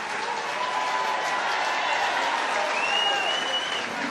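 A large crowd applauding and cheering as Paul Brady wins again, a dense, even roar of clapping and voices that holds steady throughout, with faint whistles rising above it.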